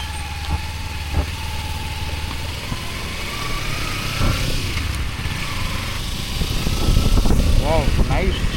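A Kawasaki Ninja 300 motorcycle engine drones steadily under wind rush while being ridden, its loudness building toward the end, with a voice talking over it.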